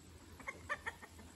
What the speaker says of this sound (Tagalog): ang ating mga manok